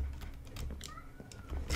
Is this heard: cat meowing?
yes